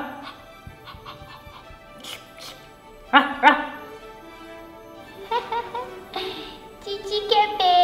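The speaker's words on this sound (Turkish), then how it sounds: "Cici köpek." Cartoon dog barking outdoors on a hot day near sand, a few short yips and barks spread across the moment, mixed with light music and scattered sound effects.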